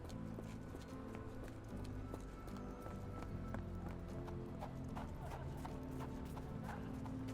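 Horse hooves clip-clop in a video game, a steady run of quiet rhythmic hoof taps over a constant low hum, fairly faint and unbroken throughout.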